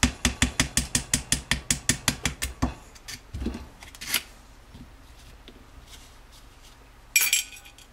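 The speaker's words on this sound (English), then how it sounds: "You're going to grab your 1/8 inch punch and simply gently tap it out." A 1/8 inch punch taps a pin out of a Smith & Wesson M&P 9mm pistol: about a dozen quick, light metallic taps in a steady rhythm, close by, followed by quieter handling clicks and a brief rattle.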